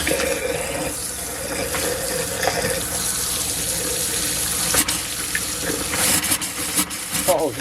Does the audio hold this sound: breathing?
no